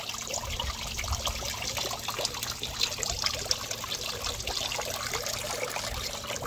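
Steady water trickling and dribbling continuously through a water filter in a crayfish setup, close by and fairly quiet, with no voices.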